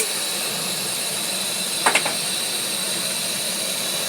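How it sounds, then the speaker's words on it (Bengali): A gas stove burner lit beneath a pressure cooker gives a steady, close rushing hiss, broken by two quick ignition clicks around the middle. "বন্ধুরা আমি গ্যাসটা ধরিয়ে দিচ্ছি"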